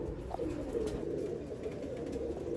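Soft, low pigeon cooing murmurs steadily in the background, faint and continuous.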